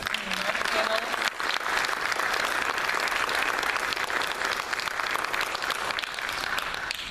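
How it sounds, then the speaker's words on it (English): An audience at a city council candidate forum applauds the candidates and panelists, steady dense clapping that fills the room for several seconds, with faint voices mixed in. "please join me in a round of applause for all the candidates and the panelists"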